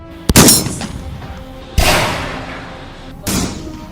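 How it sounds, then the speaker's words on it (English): Three loud gunshots ring out roughly a second and a half apart, each a sharp bang trailing into a long echoing decay. "repeated loud bangs are much more likely to be gunfire"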